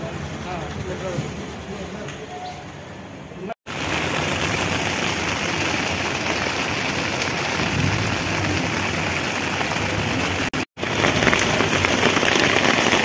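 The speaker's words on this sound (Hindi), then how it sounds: "जोर जोर से बारिश आते हुए।" Heavy rain pours down in a dense, constant hiss at a viewpoint in Arunachal Pradesh, cutting out briefly twice, with a low rumble underneath.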